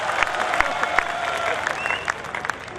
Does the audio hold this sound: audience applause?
yes